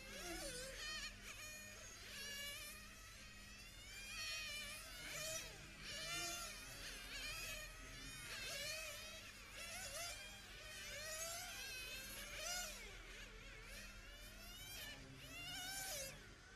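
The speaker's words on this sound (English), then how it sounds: "you can start to hear cars going into the pit lane" High-pitched buzzing whines of 1/10 scale nitro RC cars at a European track championship, engines rising and falling as several cars pass and slow into the pit lane, steady and moderately distant.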